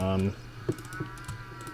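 A single short cow moo from a video game at the start, followed by soft mouse clicking and faint background noise.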